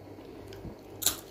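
Crunchy fried dried fish being chewed, a couple of close, faint bites with a sharper crisp crunch near the end, heard alone without talking.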